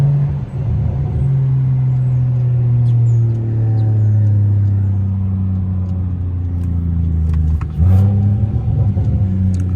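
A single-turbo BMW 335is pulls away, a loud close engine drone rising steadily in pitch as it accelerates, then a shift and renewed climb near the end, heard from inside or beside the car.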